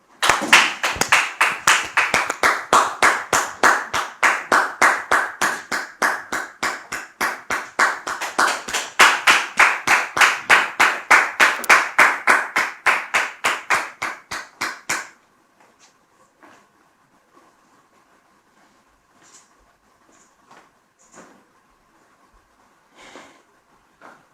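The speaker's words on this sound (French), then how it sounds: "Sous vos applaudissements" Rhythmic unison clapping from an audience, steady evenly spaced beats for about fifteen seconds that then stop abruptly, leaving quiet room tone with a few faint scattered sounds.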